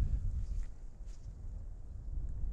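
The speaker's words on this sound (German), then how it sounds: "Jetzt ein bisschen windig." Low, steady rumble of wind buffeting a microphone outdoors at Schmilka, muffled and continuous throughout, with no one speaking.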